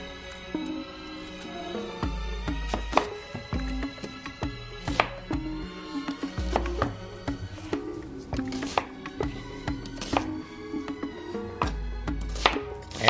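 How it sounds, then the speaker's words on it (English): A knife chops through an onion on a cutting board for chili, steady repeated thuds and crisp slicing strokes up close, with background music underneath and no talking. "cutting up the onion."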